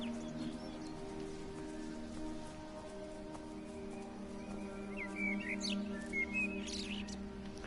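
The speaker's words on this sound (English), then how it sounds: "It's weird hearing the birds, because the birds are still here." Birds chirp faintly in the video game Everybody's Gone to the Rapture, a few short distant tweets over a steady hiss of outdoor ambience, with no talk.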